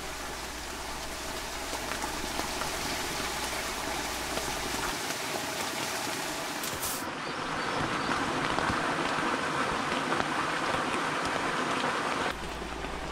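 Steady rain patters continuously on a tent at a valley campsite, a soft, even hiss with no talking.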